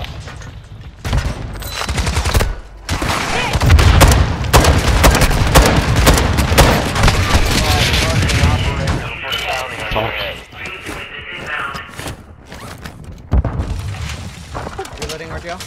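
Dense bursts of rapid video game gunfire and booming impacts crackle through a close-quarters firefight, loud and nearly continuous, with players' voices talking over the shooting.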